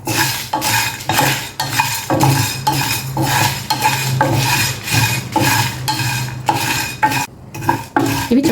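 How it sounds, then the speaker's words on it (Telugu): Fenugreek seeds and dry red chillies toast in a pan over a low flame, with a metal spoon scraping and stirring in repeated rhythmic strokes over a soft sizzle, close and fairly loud. "ఇవి స్టవ్ సిమ్లో పెట్టుకుని చక్కగా వేయించుకోండి"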